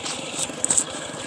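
A tractor engine runs near a plot of farmland, giving a brief, steady mid-pitched chug with a light rattle and no voices.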